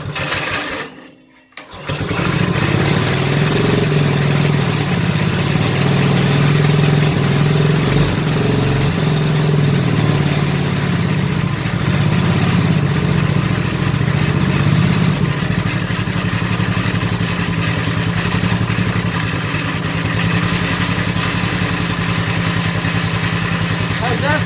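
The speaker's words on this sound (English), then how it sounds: "How's that for idle?" A mini race mower engine cold-starts with a brief sputter, then settles into a loud, steady, slightly uneven idle that runs close and continuous to the end.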